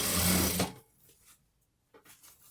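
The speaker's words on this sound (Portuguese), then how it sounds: "Eu vou costurar por esse lado do moletom, tá bom?" A sewing machine runs in a short, loud burst stitching a sweatshirt, then stops abruptly, leaving faint handling sounds of fabric.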